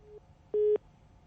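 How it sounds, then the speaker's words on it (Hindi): A telephone busy tone heard after a call dropped during a live news phone-in: a steady electronic beep with harmonics, one short pulse followed by one longer tone, alone against faint background hum. "पंकज का फोन कट गया है"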